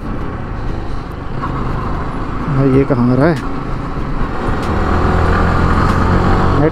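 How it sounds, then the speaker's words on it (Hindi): Traffic noise surrounds riders on KTM Duke 200 and Yamaha R15 motorcycles riding at night, with a steady engine and road roar, a rising rev or horn-like tone in the middle, and people talking over it. "ट्रैफिक बहुत ज़्यादा हो रहा है अभी"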